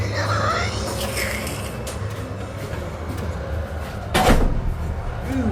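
A door inside a church thuds shut once near the end, standing out over a continuous low rumbling background.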